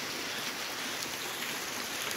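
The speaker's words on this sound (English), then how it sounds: "This is how it rains in a regular summertime thunderstorm." Heavy rain from a summertime thunderstorm during Hurricane Idalia pours down in a constant, loud, even hiss, with no pauses and no voices.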